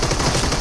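A short, loud blast of gunfire from a shooting video game, a dense burst that fills the whole moment.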